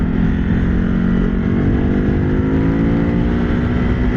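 A motorcycle engine roars loud and close while being ridden hard, its pitch climbing steadily as the bike accelerates without a break.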